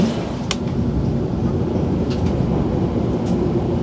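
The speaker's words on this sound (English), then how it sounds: "I saw Greater Anglia pulling on the other side, to Hertford East" A Greater Anglia train bound for Hertford East pulls into a station on the opposite platform, giving a loud, steady rumble with a few sharp clicks and squeals over the top and no talking.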